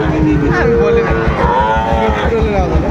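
A Sahiwal calf moos loudly and close at a cattle market, one drawn-out bellowing call with a rising and falling pitch over a steady rumble of background noise.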